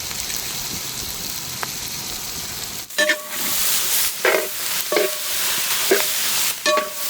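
Capsicum and onion sautéing in oil in a pan, a steady close sizzle with several bursts of stirring and scraping.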